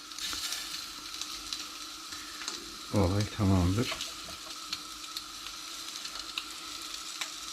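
Scorpionfish meat frying in hot oil in a large pan, a steady sizzle running throughout with a short burst of speech in the middle.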